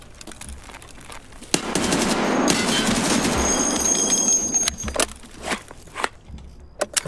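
Machine gun fire in a video game, a loud sustained burst of rapid crackling shots lasting a few seconds, then trailing into scattered single pops and shuffling noises.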